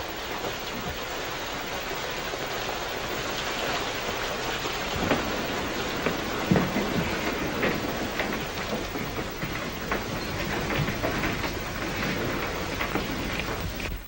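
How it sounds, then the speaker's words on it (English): Steady rain pours down on surfaces, a continuous hiss with occasional louder patters and faint low rumbles, no voices. "It's going to rain all day."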